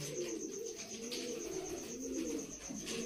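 Pigeons kept by a fancier at a bird market in Sialkot coo steadily and continuously, close and fairly loud, several birds overlapping in low rolling calls with no talk over them.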